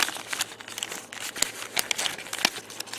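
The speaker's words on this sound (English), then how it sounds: "I might as well unwrap the whole thing." Plastic wrapper of a potato chip and bacon bar crinkles and tears as it is unwrapped, close and crisp, in rapid irregular bursts with no talk.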